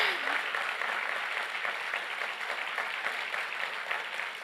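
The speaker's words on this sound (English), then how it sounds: "I think Nishta is surviving on your applause" Sustained applause from an audience at a Bharatanatyam dance recital (arangetram), a dense, steady patter of many hands clapping at a fairly quiet, even level for several seconds with no speech over it.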